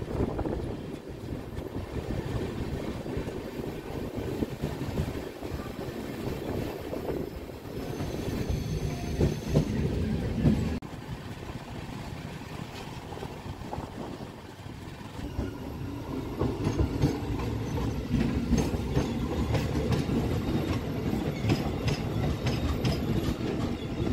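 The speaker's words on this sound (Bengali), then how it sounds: "এটা টাটানগর আসানসোল মেমু স্পেশাল।" A Tatanagar–Asansol MEMU special electric train passes through a station, a long loud rumble with rhythmic clickety-clack of wheels over rail joints, swelling and shifting as the coaches roll by, with wind buffeting the microphone.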